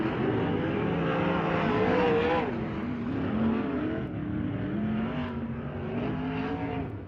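Race cars lapping Ventura Raceway during hot laps, engines droning and rising and falling in pitch as they circle, heard at a moderate distance as a continuous roar.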